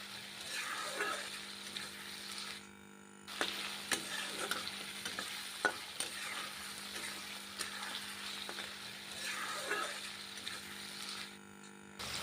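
Tomatoes frying with salt in a pan for a Bengali cauliflower, potato and fish curry, giving a steady low sizzle with occasional stirring scrapes and clinks, fairly quiet and continuous with no talking.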